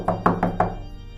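Four quick, hollow knocks on a door, close and evenly spaced within about half a second, then silence.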